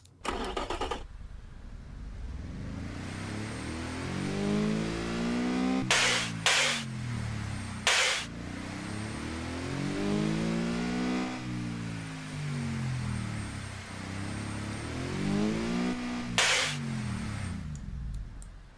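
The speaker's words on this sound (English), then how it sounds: "I think we should hear it with the turbo to see just how it sounds." Turbocharged car engine in the BeamNG.drive driving game revving up through the gears, rising sweeps repeatedly climbing and dropping with sharp shift breaks, loud and steady throughout with no talking.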